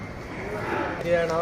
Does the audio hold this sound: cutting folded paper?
no